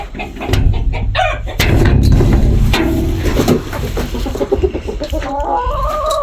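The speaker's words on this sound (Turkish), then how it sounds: "Bizim tavuklarımız ne yapıyormuş? Şimdi sıra tavuklarda." Chickens clucking in a busy flock on a village farm, overlapping bursts of clucks and squawks close by, with a rooster-like call rising near the end.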